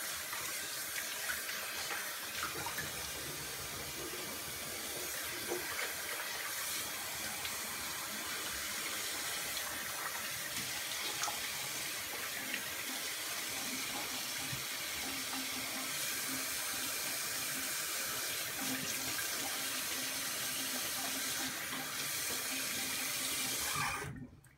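Water runs steadily from a tap for rinsing during a shave, a continuous close splashing stream that lasts throughout and cuts off abruptly at the end.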